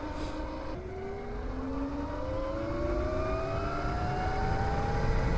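BombMoto B2 electric motorbike being ridden, a rising electric motor whine climbing steadily in pitch over a constant rush of wind and road noise, close and sustained, no talking.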